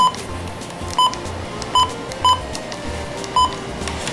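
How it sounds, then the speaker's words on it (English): Four short electronic button beeps from a first-generation Midland WR120 weather radio at irregular intervals, clear and close, over a low steady background hum. "the button beeps on the Midland WR120 first gen"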